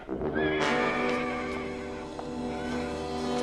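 A horse neighs loudly and close by in a long, strained whinny, with a steady rumble of activity beneath it and no talking over it.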